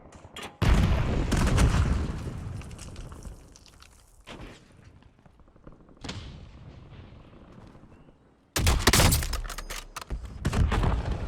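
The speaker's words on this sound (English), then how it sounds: "Shooting rockets at me." Rockets fired at the player in Call of Duty Warzone in Verdansk: several heavy booming impacts, with a loud blast near the start and another near the end, separated by quieter rumbling stretches.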